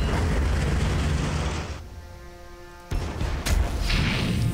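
Explosions and shellfire hit a Basilisk artillery tank in the strategy game Warhammer 40,000: Armageddon, a loud booming blast that fades out, then a sharp second impact and rumbling crashes.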